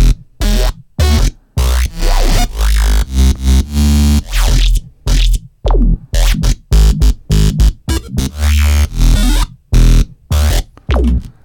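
Ableton synth patch with random speaker switching, playing short, punchy staccato notes in a choppy hocket pattern, each hit separated by abrupt silences, with deep sub bass under the bursts.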